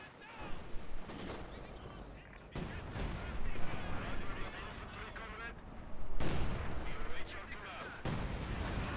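Vickers machine gun firing in Company of Heroes 2, heard as sustained bursts of gunfire with heavy booms and battlefield noise throughout, louder surges around the middle and end.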